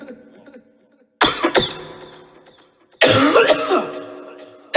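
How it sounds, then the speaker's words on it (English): Two harsh coughs pass through a voice changer set to a cave-like echo, each burst followed by a long reverberant tail that slowly fades, loud and close with no speech. "That's what it sounds like when I cough and there's an echo."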